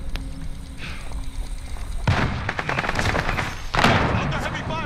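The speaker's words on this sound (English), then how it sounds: "I've got heavy fire here." Heavy gunfire in a video game shooter: bursts of rapid shots and booming impacts crowd in after a quieter opening, loud and close, with a voice talking faintly beneath.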